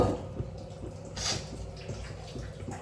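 Water poured into a pressure cooker in a home kitchen, a steady splashing stream with gurgling and a brief brighter splash partway through.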